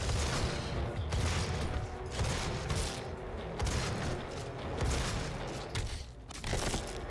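Enemy shotgun blasts in the video game DOOM, heavy booming shots within a dense, continuous wash of combat noise and mechanical clatter, loud and close throughout.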